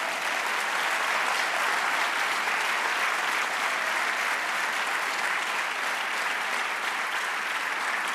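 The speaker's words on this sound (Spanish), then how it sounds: "Dale otro aplauso al Señor." A church congregation gives sustained applause in praise during a Spanish-language sermon, a thick and steady roar of many hands clapping that holds at an even level from start to finish.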